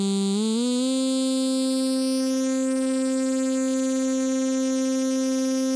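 Omnisphere synthesizer tone with waveshaper distortion applied after the filter and amplifier: a steady, buzzy sustained note rich in harmonics, gliding up in pitch at the start and then holding level and loud, with no voices.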